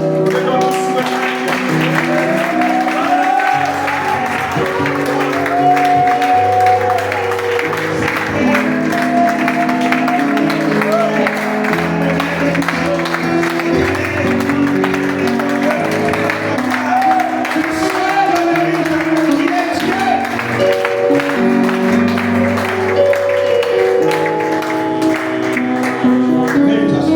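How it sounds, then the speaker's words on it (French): A church congregation applauds and cheers during a Sunday service, sustained clapping and crowd acclaim mixed with music and voices throughout. "Nous amène nos acclamations, nos alléluia."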